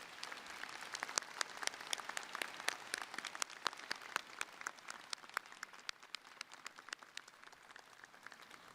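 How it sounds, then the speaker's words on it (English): Scattered applause for law school faculty and staff at a college graduation ceremony, individual claps standing out sharply in an uneven patter from a modest, somewhat distant crowd. "if you could give another round of applause, this time for faculty and staff at the College of Law."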